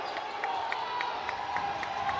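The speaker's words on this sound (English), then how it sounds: "This Cookeville crowd into it, as you can hear." Home basketball crowd in a Cookeville high school gym roars steadily throughout, a dense continuous cheer with squeaks and shouts rising through it and a play-by-play voice talking over the top.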